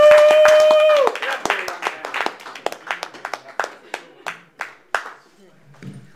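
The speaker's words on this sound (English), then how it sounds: "Please give him a round of applause" Applause and scattered clapping from a New York City comedy club audience as a comedian is welcomed to the stage, with a brief cheer and a sustained tone at the start, then claps thinning out into separate, irregular hand claps.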